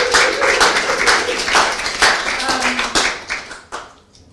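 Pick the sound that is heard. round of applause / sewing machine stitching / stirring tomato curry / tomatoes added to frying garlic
round of applause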